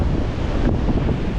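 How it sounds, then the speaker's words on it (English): Strong wind on a beach buffets the microphone in a continuous loud roar, with surf rumbling underneath and no voices. "I'm wondering if it's too windy."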